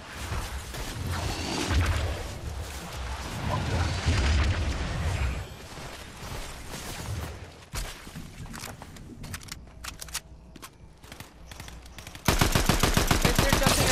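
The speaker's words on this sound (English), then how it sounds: "How am I getting shot?" Fortnite video game gunfire crackles in rapid, overlapping bursts with booming shots. The firing thins to scattered single cracks, then ends in a fast, evenly spaced volley, all fairly loud and close.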